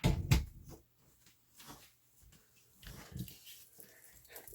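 A small female dog at a closed bedroom door, giving a sharp close bark or yelp at the start followed by quieter scattered whimpers and snuffling sounds.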